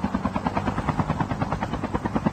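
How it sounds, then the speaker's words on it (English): A helicopter in a Call of Duty game thumps with fast, regular rotor beats, steady and moderately loud for a couple of seconds with no speech over it. "Oh my god, he's still in the chopper?"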